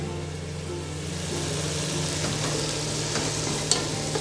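Prawns sizzle and fry steadily in a pan for prawn biryani, a dense, close crackle with a low hum underneath and a faint clink near the end.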